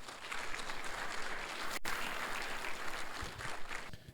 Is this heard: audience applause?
yes